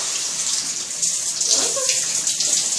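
Running water pours and splashes steadily while a cat is rinsed in a bath, with a faint voice briefly under the flow.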